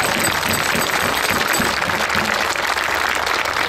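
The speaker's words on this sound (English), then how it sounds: "Let's give them a round of applause." An audience at a Washington State Vietnam veterans welcome home event claps in sustained applause, dense and steady with some distinct nearby claps, continuous for several seconds.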